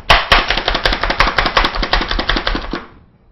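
Broccoli chopped quickly with a knife on a board makes a rapid run of about twenty crisp, even chops, close and clear, ending abruptly and fading to quiet.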